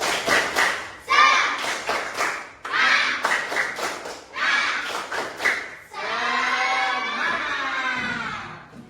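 Schoolchildren in a classroom perform a patterned spirit clap, bursts of sharp unison claps in rhythmic groups, then break into loud cheering and shouting at the end.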